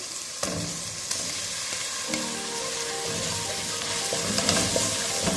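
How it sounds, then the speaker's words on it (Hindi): Tomato paste fries with ginger paste and green chilies in a pot for pulao, giving a steady close sizzle with a few sharp utensil taps and stirring scrapes, no speech. "और अब इसमें टमाटर की पेस्ट डाल देते हैं।"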